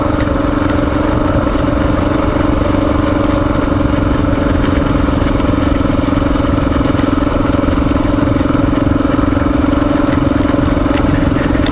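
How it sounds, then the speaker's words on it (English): A motorcycle idles along a leaf-covered forest service road, its engine giving a steady, close, loud drone with a constant low hum and light clatter and no change in pitch throughout. "I'm basically just idling down this road."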